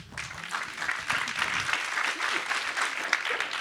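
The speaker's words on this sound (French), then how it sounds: "On peut l'applaudir quand même." Audience applause fills a design talk by Matali Crasset, a steady, dense wash of many hands clapping that holds for the whole stretch without pause.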